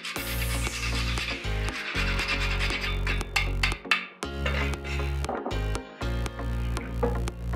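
Nutmeg is rasped in short rhythmic scraping strokes at close range, each stroke a brief dry rub with small pauses between, quiet and without talk.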